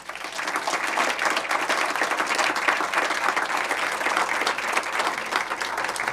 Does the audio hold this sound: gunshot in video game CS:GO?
no